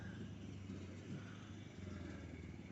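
A small motor buzzes steadily nearby, its droning pitch shifting slightly as the scooter passes, with no talking heard.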